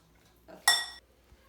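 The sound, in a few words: spoon scooping avocado into a bowl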